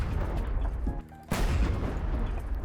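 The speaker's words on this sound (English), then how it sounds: "2 more shots and the other is off" Heavy weapon shots in the vehicle combat game Crossout, booming blasts rumbling continuously with one sharp crack standing out midway.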